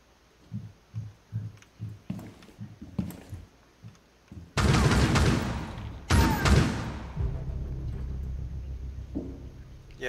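Gunfire in Rainbow Six Siege, enemies shooting down through a ceiling on the Coastline map: soft clicking steps first, then two loud, dense bursts of shots nearby, followed by a lingering rumbling tail.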